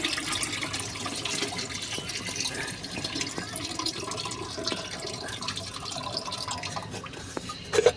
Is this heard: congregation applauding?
no